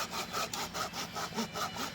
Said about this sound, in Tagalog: Parang mapurol yung lagari ko.